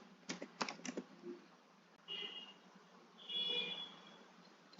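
Quick keystrokes tap out a command on a computer keyboard while installing Git on Linux, with a few sharp clustered clicks near the start and faint electronic tones later, no one speaking.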